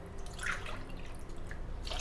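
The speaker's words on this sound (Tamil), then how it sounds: "இப்போ வந்து 5 கப்பு தண்ணி சேர்த்துடலாம்." A cup of water pours into a cooking pot in a home kitchen, a short splashing, dripping gush heard close by for about two seconds.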